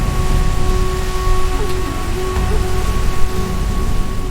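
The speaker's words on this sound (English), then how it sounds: "Storms in Luzon can arrive at any moment with immense force, sweeping through the forest." A rainstorm sweeping through a Luzon forest in the Philippines, with loud, steady rain hissing on foliage and a low thunder rumble beneath, plus faint tonal hums running through.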